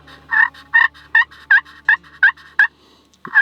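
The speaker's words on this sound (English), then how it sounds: "Very slim pot call, so go for the slim one." A slim pot turkey call, played close and loud outdoors while scouting for spring gobblers in Maine, gives a rhythmic run of about eight sharp yelps, then a pause and one more yelp.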